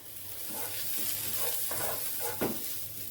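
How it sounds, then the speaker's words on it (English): Garlic being stirred into a hot frying pan for moussaka, a continuous close sizzle with scraping strokes and one sharper knock near the end. "I'm going to stir that all in."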